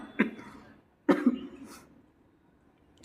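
A woman with a cold coughs twice, short harsh bursts about a second apart, the second followed by a brief rasping tail, then quiet.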